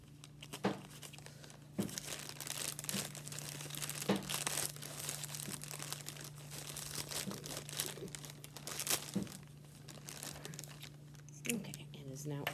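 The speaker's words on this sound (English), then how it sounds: "So we will see what is in this bag that I'm trying to be very careful to cut in." Crinkling and tearing of a pink plastic bag being carefully cut open, soft repeated crackles and rustles at close range, with a steady low hum underneath throughout.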